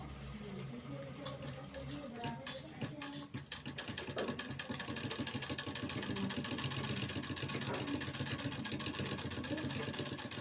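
Sewing machine stitching a concealed zip during a beginner tailoring lesson, giving a steady mechanical whirr with rapid needle clatter that runs continuously throughout, close and fairly loud.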